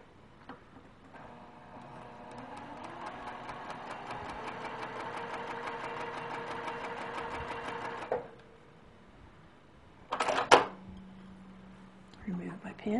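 A sewing machine stitches quilt binding corner to corner in a steady, rapid run of needle strokes lasting several seconds, then stops; a brief burst of handling noise and a short clatter follow near the end.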